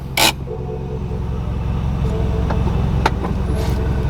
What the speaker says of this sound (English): I'm gonna let this thing warm up before we take it for a drive